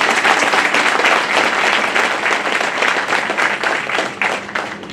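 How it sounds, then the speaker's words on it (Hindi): Loud, sustained applause from a large audience at a Bar Council of Delhi enrolment meeting, dense steady clapping filling the room for several seconds as the chairman is welcomed. "इसलिए जोरदार तालियों से चेयरमैन का स्वागत"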